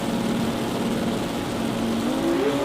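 A Honda drag car with a 2J engine launches at a sports compact drag meet, its engine holding a loud, steady drone with rising pitch near the end as the tyres spin; no voices.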